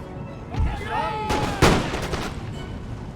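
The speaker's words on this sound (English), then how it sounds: "We got the shot off first" Volley of musket fire from British line infantry in Empire: Total War, a rough burst of overlapping shots with a sharp crack near the middle, heard under game voices and battlefield noise.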